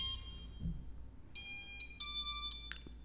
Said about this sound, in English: There is signal going to the ESC because it continued with the initialization beeps.